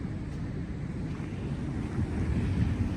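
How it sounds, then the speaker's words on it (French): Large ocean waves crash close by in a continuous heavy roar, with wind buffeting the microphone and no talk over it. "Jamais vu des vagues pareilles ici."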